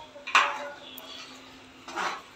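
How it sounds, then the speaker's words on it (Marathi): A spice mixture of salt, red chilli and goda masala being mixed in a pot for masala rice: two short scrapes of a spoon against metal, close and fairly quiet, separated by a brief pause. "मिश्रण एकत्र करून घेते आहे"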